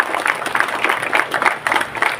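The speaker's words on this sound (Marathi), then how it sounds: "आता टाळ्या वाजवणाऱ्यामध्ये अगर ते घरचे लोक असतील तर त्यांनी निश्चित टाळ्या वाजवल्या" Audience clapping at a temple inauguration ceremony in Maharashtra, steady and moderately loud with rhythmic bursts throughout.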